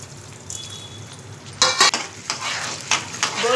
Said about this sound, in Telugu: ఉద్దిబ్యాలు వేయించుకోండి.